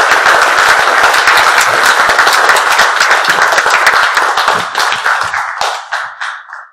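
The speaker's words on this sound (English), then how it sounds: "So let's give Lydia a big round of applause." Close, loud applause from the audience at a Libertarian Party convention in San Francisco, many sharp hand claps that hold steady before thinning into a few scattered, separate claps and stopping.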